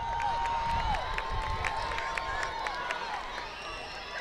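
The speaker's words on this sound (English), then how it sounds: "you can feel the excitement in the crowd right now" Crowd noise at a youth football game, the Medway Colts against the Norton Black Knights, with a steady wash of cheering and shouting voices, some whistle-like tones and scattered claps throughout.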